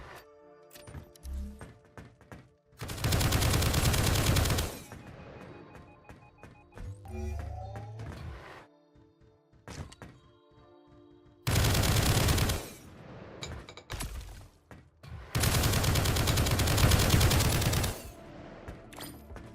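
Rapid automatic gunfire from a character in a shooter video game in development comes in three long, loud bursts, separated by quieter stretches of clicks, thuds and game sounds.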